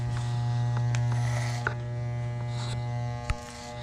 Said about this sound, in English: Man, I love this clipper